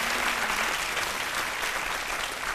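Steady audience applause fills a French-language television studio broadcast on RTI 1, dense and even throughout, with no voices rising above the clapping.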